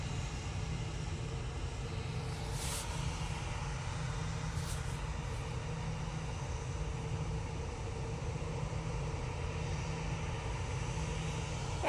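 An EasyJet aircraft bound for Bordeaux at Manchester Airport produces a steady, fairly faint jet engine drone with a broad rumbling hiss, continuous for the whole span, heard at a distance with no voices.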